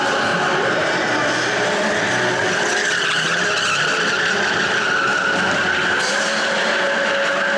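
Sports cars drift across a concrete and metal hall with a sustained, loud tire squeal and engine roar. The noise stays dense and continuous throughout, and no voices are clear.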